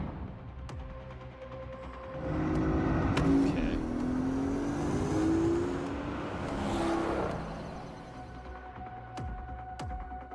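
A one-of-a-kind Porsche built for a Resident Evil collaboration, its engine throbbing and revving in swelling waves over a low hum, with a brief spoken word near the start and a few sharp clicks.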